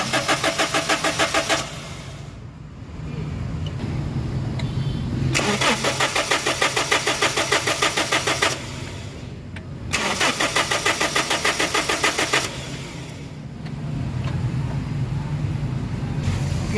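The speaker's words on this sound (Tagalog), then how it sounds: "So i-start mo na engine." A common rail diesel engine with no fuel pressure cranks repeatedly without starting, three long bursts of rhythmic starter-motor chugging separated by short pauses, loud and close with no talk over it.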